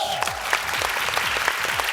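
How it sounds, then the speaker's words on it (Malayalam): Audience applause at a televised comedy show, a dense, steady burst of many hands clapping close and loud, filling the whole short stretch without a break. "എല്ലാരും പറയുമ്പോ ആ പേരുകൾക്ക് വേണ്ട കൈയടി കൊടുത്തേക്കണം കേട്ടല്ലോ"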